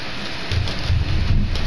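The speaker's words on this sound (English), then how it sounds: "It's storming outside." Rain falls outside during a thunderstorm, a dense steady hiss with a low rumbling swell that rises midway and holds to the end, with nobody talking.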